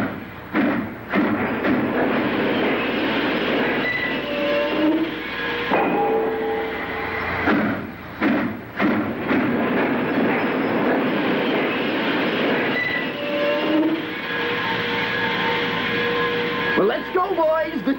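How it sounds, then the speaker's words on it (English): A choo-choo train chugs along the tracks with a steady rolling rumble and rhythmic clatter, broken by brief gaps and faint whistle-like tones, while voices talk over it. "The choo-choo isn't far away."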